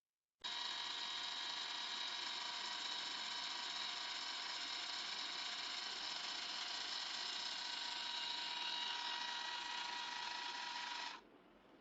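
A small electric idiyappam maker motor starts abruptly and runs at a steady, high-pitched whine for about eleven seconds, then cuts off; close and alone.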